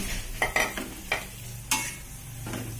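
Lemongrass and spring onions being stirred in a frying pan, a soft sizzle broken by several distinct scraping strokes of a spatula, close but quiet, with no voice.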